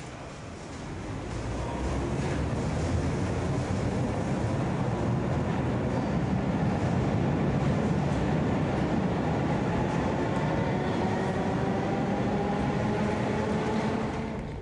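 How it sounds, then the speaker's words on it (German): Berlin U-Bahn small-profile type A2 train pulling out of Schönhauser Allee station, a steady close rumble of wheels and motors with rising whine tones that builds after a second and holds loud to the end. "Ausfahrt im Bahnhof Schönhauser Allee."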